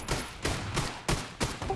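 MK14 rifle fired in PUBG, a handful of loud, evenly spaced single shots, each a sharp crack with a short echoing tail.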